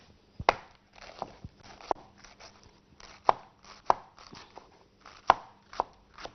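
A knife chops arugula and cabbage lettuce on a cutting board for a summer salad, giving irregular close thuds and soft crunches. There is no talk.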